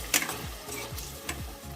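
A spoon scrapes and stirs through a sizzling pan of eggplant and potato curry, a few distinct strokes over steady frying, close and fairly loud.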